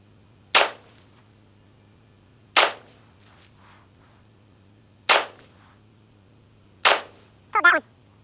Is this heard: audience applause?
no